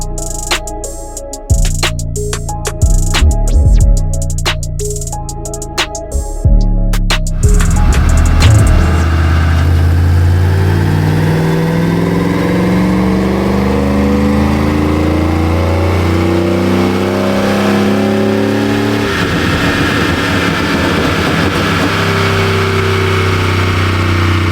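A supercharged Chevrolet Silverado 5.3 V8 truck engine on a dyno starts with sputtering clicks, then revs up and climbs steadily through a long, loud, rising pull before backing off.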